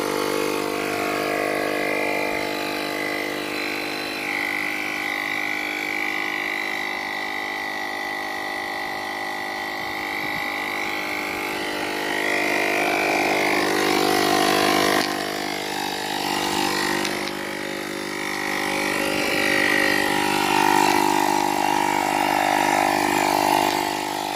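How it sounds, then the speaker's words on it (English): Small tire inflation repair kit compressor on a 2020 Ford Fusion pumping air into a punctured tire, a steady droning motor hum with a constant pitch, close and continuous for the whole stretch with no talk. "go ahead and press your button and it should start pumping it now"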